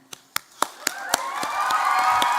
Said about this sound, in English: let's have a little cheer for Tom Peebles